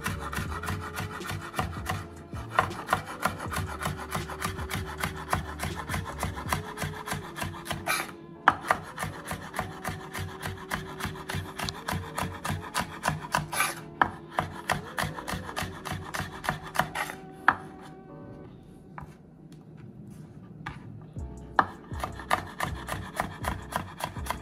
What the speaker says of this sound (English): You gotta cut up the scallion.